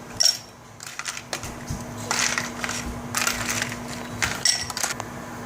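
Ice cubes from a Dometic countertop ice maker tumble into a 16-ounce glass, a series of close, sharp clinks and crunchy clatters in uneven bursts, with a faint steady hum underneath.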